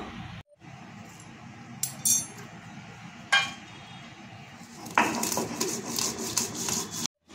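Cumin, black pepper, ginger and coconut being ground dry into a spice paste, heard as rough scraping and rubbing strokes with occasional clinks, growing denser and louder toward the end.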